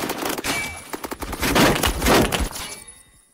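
SCAR PDW gunfire in the video game Phantom Forces, several close, loud bursts and single shots in quick succession, fading out at the end.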